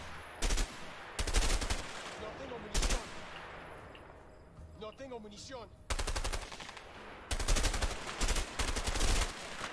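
Enemy gunfire in the video game A Way Out: loud bursts of automatic fire crack out in several separate volleys, with quieter stretches of game ambience between them.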